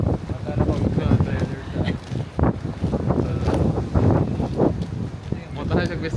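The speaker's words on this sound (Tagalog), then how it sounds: "Very, very windy." Strong wind in Da Nang buffets the microphone in a steady roar, with people talking over it and a faint rustle in the background.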